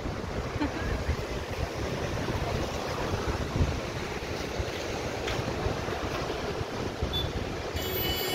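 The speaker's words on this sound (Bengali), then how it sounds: "কি হাওয়া, একটা শান্তির হাওয়া।" Steady sea breeze buffets the microphone over a constant wash of surf on the beach at Puri, a dense roar that barely varies throughout, with no talk.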